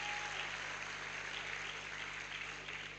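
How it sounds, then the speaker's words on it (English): Audience applause at a university matriculation ceremony at the University of Benin, a steady, even wash of clapping from a large crowd held at moderate level throughout with no voices over it. "you can give your dean a better shout of applause"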